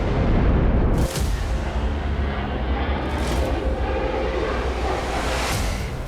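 Explosions and artillery fire on Iranian soil in an Iran–Israel conflict: a heavy, continuous low rumble with a sharp blast near the one-second mark and rolling booms throughout, loud and dense with no voices.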